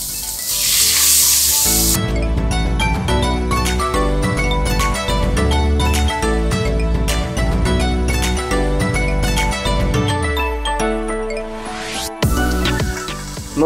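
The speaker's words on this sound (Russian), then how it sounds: "Кладем наш лосось на раскаленную сковородку и обжариваем по 5 минут с каждой стороны" Salmon fillets sizzle in a very hot frying pan, a loud, steady crackle and hiss that runs without a break from start to finish.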